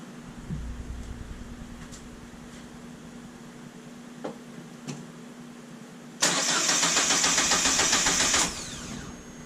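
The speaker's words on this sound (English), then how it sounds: "let's give it a quick start and see what happens" A car engine with no exhaust fitted is given a quick start attempt. After a few quiet clicks and knocks, a loud, raw churning burst runs for about two seconds and then stops abruptly.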